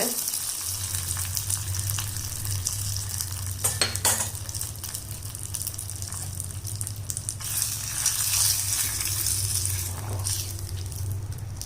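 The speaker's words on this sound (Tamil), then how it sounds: "நம்ம ஃப்ரைட் சாஸில் சேர்த்துட்டேன் தாளிப்பை" Hot tadka tempering sizzles as it is stirred into rich curd rice, a steady frying hiss with spoon scrapes and a few louder clatters, no talking.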